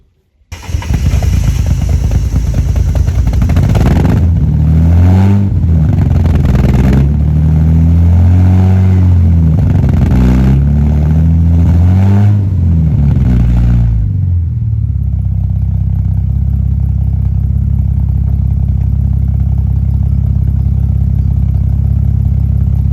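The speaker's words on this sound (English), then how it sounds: "once I start up the car, that should pick up to around 13 or 14 volts" A Mercedes project car's engine cranks and catches, revs unevenly for several seconds, then settles into a loud, steady, close idle with no one speaking.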